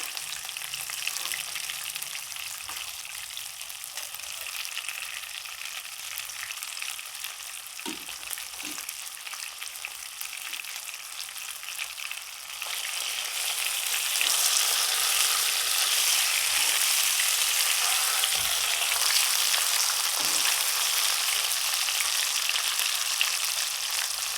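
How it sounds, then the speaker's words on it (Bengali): Fish frying in hot oil in a pan over medium heat, a continuous close sizzle that swells louder partway through after the pieces are turned, with occasional faint clinks and no talking. "মাছটা বারবার পাশ ঘুরিয়ে এপিট ওপিট করে ভেজে নিতে হবে"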